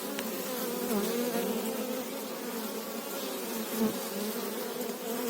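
Honey bees buzz steadily around a hive frame, a dense, continuous drone of many insects close by, with no voices over it.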